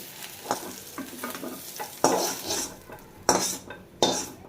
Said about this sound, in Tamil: பிரண்டையை கழுவிட்டு நல்லெண்ணெய் ஊற்றி நல்லா வதக்கிக்கலாம்